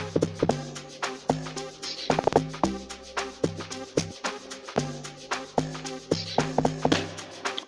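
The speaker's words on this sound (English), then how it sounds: "bass, dub synth bass 4" Dub synth bass 4 preset in FL Studio Mobile plays an amapiano-style log drum pattern, short punchy bass hits in a syncopated rhythm, close and fairly quiet, with no voices.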